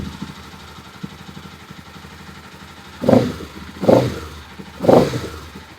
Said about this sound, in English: We can quickly start the bike.